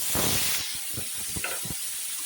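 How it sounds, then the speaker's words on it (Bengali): Eggplant slices fry in hot oil reused from frying potatoes, a loud bright sizzle at first that settles into a steady hiss with a few low bumps as pieces shift. "এখন বেগুনগুলো ভেজে নিই একই তেলে"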